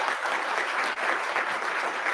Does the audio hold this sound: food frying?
no